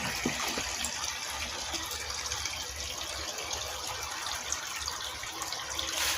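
EM microbial liquid poured into a fermentation bucket for a sugarcane-waste bio-fermentation brew, a steady, soft gushing of liquid running unbroken for several seconds.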